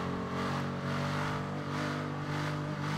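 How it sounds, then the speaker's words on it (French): A car engine revs in the GTA roleplay video game, a loud, steady mid-pitched drone that swells and dips in a few rhythmic pulses, close and continuous with no talking. "La voiture de Mac, de ouf"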